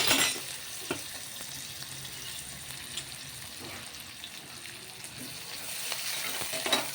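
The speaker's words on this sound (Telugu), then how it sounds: "కొంచెం ఎర్రగానిద్దామండి ఉల్లిపాయ." Two thinly sliced onions fry in heated oil in a pressure cooker pot for mutton curry, a soft, continuous sizzle with a few light stirring knocks, fairly quiet and close.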